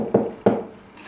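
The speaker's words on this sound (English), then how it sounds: "I'm taking a very light shaving. It's not a finishing cut, but it's a light shaving." A hand plane takes a light shaving from a wooden board in two quick, scraping strokes, each starting sharply and trailing off, close and clear with no talk.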